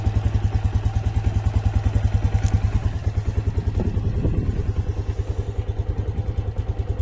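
A scooter engine idles with a fast, regular putter close by, faltering a little near the middle before chugging on steadily.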